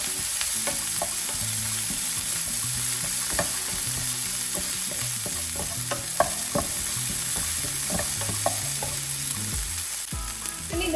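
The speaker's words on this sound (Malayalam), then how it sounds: "പച്ചമുളക് ഇത് നല്ലോണം ഒന്ന് സോട്ട് ചെയ്തെടുക്കാം." Green chillies sizzle steadily in a hot pan for masala dosa filling, a constant close frying hiss with soft scrapes and taps from stirring throughout.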